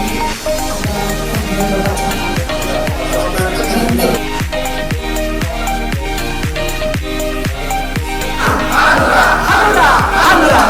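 An audience at a Hanura party anniversary ceremony and building inauguration in Jakarta cheers and claps loudly and steadily, with rhythmic beats running underneath and the crowd noise swelling near the end.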